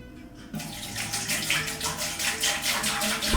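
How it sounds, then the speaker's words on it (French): Nine and a quarter litres of water pour steadily into a home-brewing machine to begin mashing for beer, a continuous close splashing rush that starts abruptly after a brief quiet moment and runs on without talk. "On commence par mettre les 9 litres 21 d'eau."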